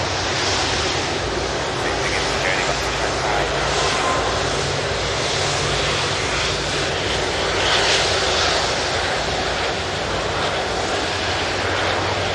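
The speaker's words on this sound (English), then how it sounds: "Tap Air Portugal there on the way out" A TAP Air Portugal jet airliner takes off from Manchester Airport, a loud, sustained engine roar with a hissing upper band, close and steady throughout with slight swells, no voices present.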